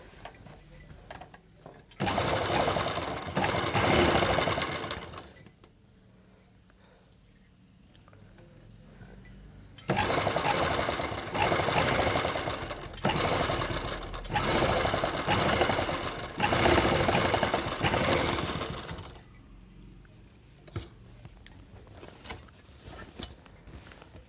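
A sewing machine stitches an embroidered, beaded blouse in two long, loud, close runs of rapid mechanical chatter separated by a quieter pause, with soft handling noise at the end.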